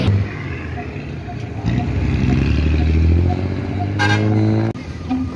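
Road noise from a goods vehicle carrying goats from Hyderabad to Karachi, with a steady engine rumble, traffic passing, and a short horn blast near the end.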